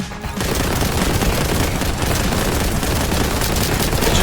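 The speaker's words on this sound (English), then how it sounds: "You're not shooting bullets, you're just shooting explosive rounds." In Warhammer 40K Boltgun, a bolt gun fires explosive rounds in a loud, unbroken barrage of rapid booming shots that fills the whole stretch at close range.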